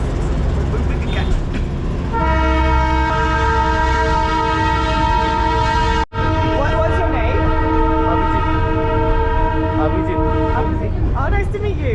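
A toy train to Darjeeling rolling along with a steady rumble and a long sustained whining tone above it, continuous throughout with a brief dropout midway.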